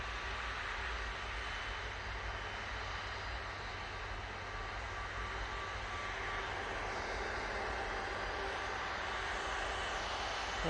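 Continuous distant aircraft engine rumble and broadband roar at Manchester Airport as an Emirates jet arrives, fairly faint but steady, swelling slightly near the end, with no talking.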